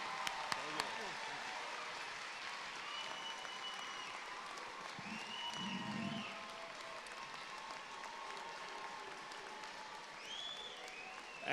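Sustained applause from a commencement audience honoring PHSC associate degree, diploma and certificate graduates, a steady wash of clapping at moderate level throughout with a few voices and cheers mixed in.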